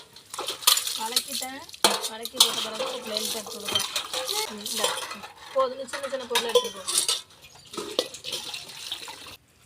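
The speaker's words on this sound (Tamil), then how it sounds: "இந்த குடத்துல எப்படி சத்தம் கேட்குது பாருங்க" Repeated metallic tapping and clanging on a metal water pot, ringing brightly in irregular bursts while a person talks over it.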